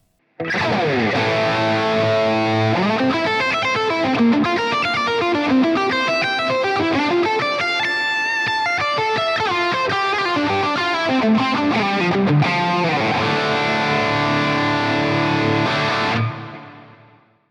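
An electric guitar plays distorted chords and lead runs through a Synergy Marshall JMP preamp module modeled on a Plexi amp, loud and continuous for about sixteen seconds before cutting off.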